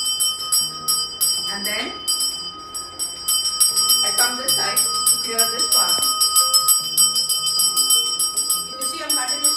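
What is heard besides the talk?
hand bell rung continuously during smudging ceremony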